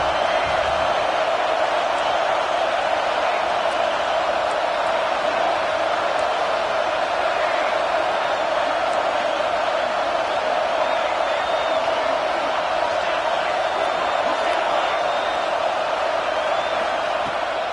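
A steady, dense roar of a large American football stadium crowd, loud and continuous throughout, with no distinct cheers standing out.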